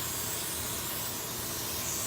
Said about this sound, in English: what you hear is a little vacuum that I'm using